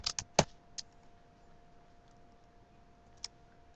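A few light clicks of typing on a computer keyboard, clustered at the start then sparse and faint in a quiet room.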